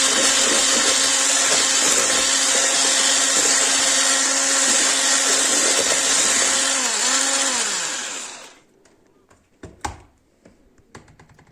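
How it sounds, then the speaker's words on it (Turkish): An electric hand mixer whisks soufflé batter in a pot, a loud steady whirring drone that holds for about eight seconds, dips in pitch briefly, then cuts off, leaving a few faint clicks and knocks. "çırpmaya devam ediyoruz"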